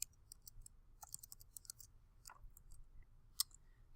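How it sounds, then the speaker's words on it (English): Quiet, irregular clicking of keys on a computer keyboard as a short entry is typed, with brief bursts of taps separated by small pauses. "so we'll type in opening balance"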